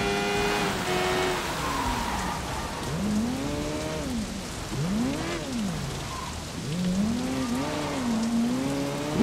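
Rain falls steadily in the Sleeping Dogs video game, a constant hiss running throughout beneath the repeated rising and falling whine of a vehicle engine.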